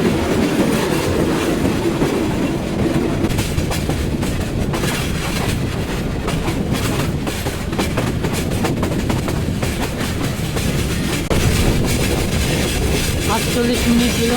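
The Parabat Express rushes through hilly country toward Srimangal with a loud, continuous rumble and rattle of the rail cars and a steady clickety-clack of the wheels.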